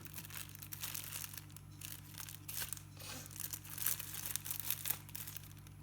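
Plastic packaging is crinkled and torn open up close. The rustling crackles come in uneven bursts over a low steady hum, and no voices are heard.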